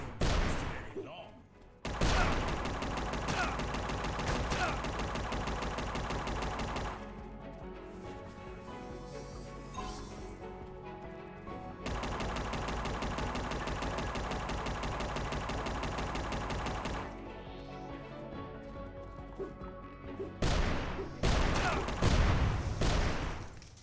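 Machine gun fire from the Unemetal video game boss Machine Mike, long sustained bursts rattling loudly against sandbags, broken by brief pauses and mixed with game music and effects.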